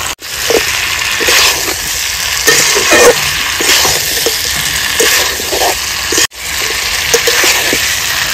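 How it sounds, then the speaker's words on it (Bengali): Fried potato pieces going into a pan of sizzling chicken curry, a steady close sizzle with bursts of stirring and scraping, briefly cut off once before resuming. "এবার দিয়ে দেবো ভেজে রাখা আলুর টুকরোগুলো।"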